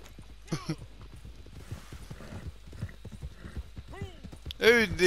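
Horse hooves clip-clop steadily in the video game Red Dead Redemption 2, with quick rhythmic hoof hits throughout and a short neigh at the start and end.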